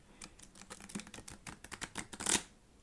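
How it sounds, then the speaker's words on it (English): Thin, dense European-cardstock tarot cards are riffle shuffled in a quick, close, quiet crackling flutter ending in a brief sharp bridge burst. "the shuffling will be typical of these dense and thin. They're very good for riffle shuffling."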